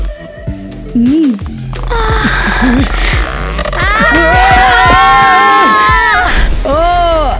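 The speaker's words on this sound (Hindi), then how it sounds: "अरे तुम लोग चिल्ला क्यों रहे हो?" Several voices shout and yell together over a busy, loud background, overlapping with lively cartoon-style music and effects.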